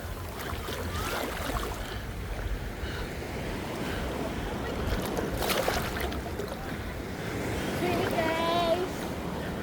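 Sea waves wash in at a beach in La Union, a broad rushing surf with wind buffeting the microphone, while people talk and a voice rises faintly near the end.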